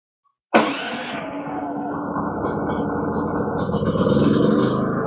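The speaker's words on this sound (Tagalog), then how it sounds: "So ngayon, turuan natin si sir kung paano i-start ng generator na to." A PhilKing 4200 generator starts with an abrupt burst, then settles into a steady, loud, rattling engine drone that grows slightly stronger toward the end. No one speaks.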